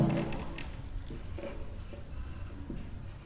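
Marker or chalk strokes on a classroom board during a maths lesson on the dot product, a few short scratchy strokes heard close and alone.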